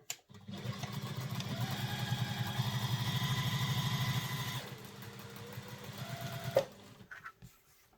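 A sewing machine stitches handbag fabric pieces together, a steady close mechanical whir for about four seconds, then a lighter, quieter run ending with a click.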